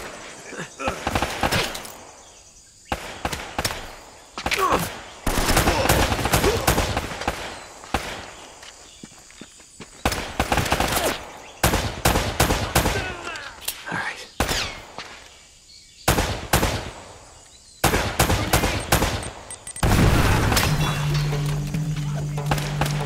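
Rapid bursts of gunfire in the video game Uncharted crackle in clustered volleys separated by short pauses, loud and close, with voices in the game's action.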